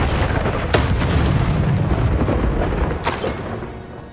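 Fiery Incendio spell blasts in the video game Hogwarts Legacy: loud, broad whooshing roars with two sharp explosive bursts standing out, and no talk.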